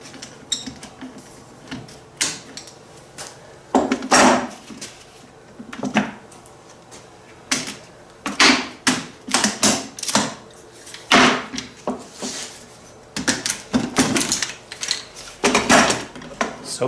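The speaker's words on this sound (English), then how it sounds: "let's just start by taking off the clamp that had the most pressure" Clamps come off a freshly formed sponson for a Pygmy kayak, giving a series of sharp clicks, clacks and rattles. They arrive in irregular bursts, close and fairly loud, with short quiet gaps between handling sounds.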